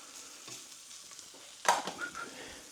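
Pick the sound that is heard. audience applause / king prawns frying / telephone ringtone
king prawns frying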